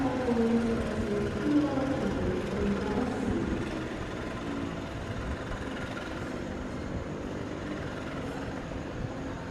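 An economy-class Kutojaya Selatan passenger train between Bandung and Purworejo rumbles along steadily, a continuous low clatter and hum heard from inside the carriage, with no talking.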